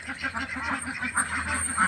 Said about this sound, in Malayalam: അതാണ് കുട്ടനാടൻ താറാവ്